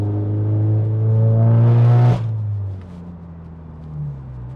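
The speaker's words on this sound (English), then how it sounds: "So you get to hear the exhaust like proper" A VW Eos-Rocco build's exhaust, close and loud, revving up steadily to a peak, then dropping sharply back to a low burbling idle with a small blip afterward.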